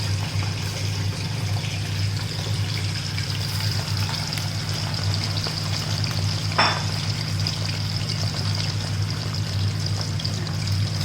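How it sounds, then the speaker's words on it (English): A second batch of potatoes for Sindhi aloo tuk sizzles in hot oil, a steady dense fry with a constant low hum underneath and one brief splash partway through. "we've got a second batch that we're just going to add into the oil now"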